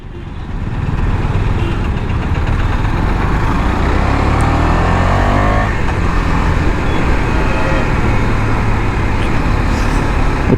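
Dense road traffic in Kurnool, a steady loud wash of car, bus and truck engines idling and moving close by, continuous throughout with no talk.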